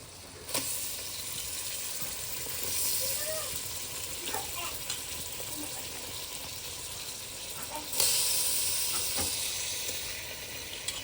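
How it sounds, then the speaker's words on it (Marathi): Mutton fries and gets stirred in oil, a soft steady sizzle with occasional scraping knocks and faint voices talking nearby. "मटण शिजवायचं ते तेलात परतून घ्यायचं"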